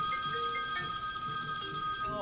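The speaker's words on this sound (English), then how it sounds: "my iPad and Siri, my phone are ringing" A phone ringing indoors with a steady electronic ringtone, faint and continuous over a thin background hiss, with no voices.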